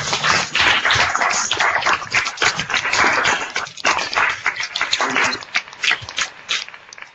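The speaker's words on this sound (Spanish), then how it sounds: "Un aplauso muy fuerte para todos" Dense, sustained applause and clapping from a crowd at a Spanish-language reading club session, loud and steady throughout with uneven bursts and some voices mixed in.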